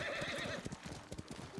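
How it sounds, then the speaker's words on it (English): A horse in the Ghost of Tsushima video game gallops with quick rhythmic hoofbeats and lets out a short neigh near the start, close and clear. "Horse."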